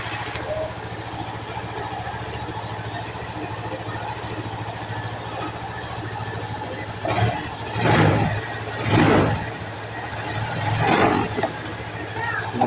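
A Suzuki Hayate 125i motorcycle engine idles steadily, then the throttle is revved in three short swells that rise and fall, close by, while someone talks over it.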